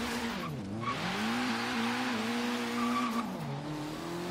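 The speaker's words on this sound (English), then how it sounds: "Uphill pulling, lots of tire spins, second gear." A turbocharged Honda Civic Type R in Forza Horizon 3 pulls uphill in second gear, its engine droning steadily and rising in pitch while the tires spin and squeal continuously, loud and close with no talking.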